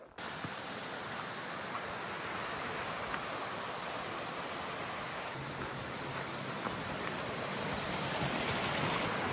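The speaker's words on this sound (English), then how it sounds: "Crossing Boulder Brook, 2 miles into the hike." Boulder Brook on the Longs Peak Trail rushes past in a steady, broadband wash of flowing water, continuous and fairly close, with no voices.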